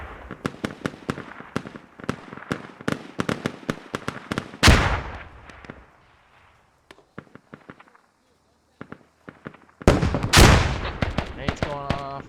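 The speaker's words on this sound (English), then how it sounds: "Nade's going off, going up" Grenade blasts and rifle fire in the Squad video game during an assault on walls: rapid bursts of close sharp gunshots, two heavy explosions with long booming tails, and a quieter pause between, with voices talking over it.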